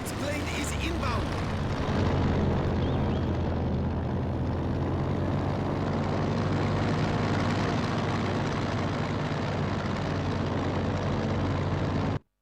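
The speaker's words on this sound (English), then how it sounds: "Friendly reconnaissance plane is inbound!" A reconnaissance plane drones in steadily overhead in a Company of Heroes 2 wartime cutscene, a constant propeller-engine hum filling the scene, with a brief shout near the start.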